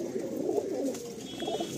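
Andhra high-flying pigeons in a loft give a steady, overlapping low cooing close by, with soft throaty murmurs rising and falling throughout and no voices.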